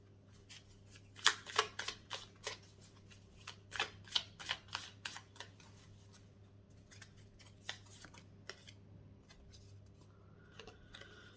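Tarot cards are shuffled and drawn, giving quick riffling bursts and soft flicks in irregular clusters, close and fairly quiet, over a faint steady hum with no talking.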